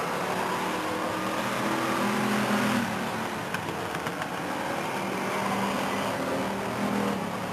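Race cars at the Stockton 99 race in September 1999 come out of turn four on the oval track, a continuous loud engine roar with crowd noise beneath.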